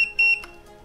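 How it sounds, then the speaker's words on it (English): An Air Still Pro distiller gives two short, high electronic beeps in quick succession when set to pot still mode, followed by a faint mechanical hum of its fan and pump. "You'll hear two beeps and then you'll hear the fan and pump start to whir"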